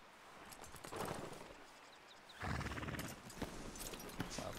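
A horse clip-clops nearby and gives a short whinny, its hoofbeats irregular and faint against a quiet outdoor background.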